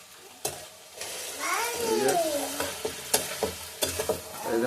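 Chicken curry with masala sizzles in a pan as water is poured in and stirred, a close, steady hiss with a brief whining tone and scattered spoon clacks against the pan.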